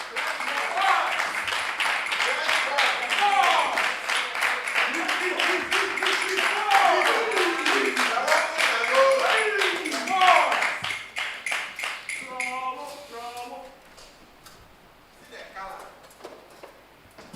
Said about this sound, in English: With a round of applause, please join me as we welcome the two teams